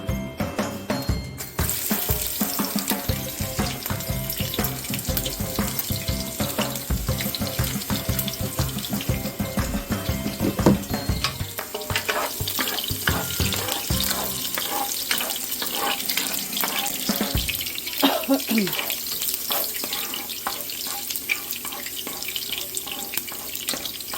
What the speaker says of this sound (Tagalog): Nagigisa muna ako ng bawang.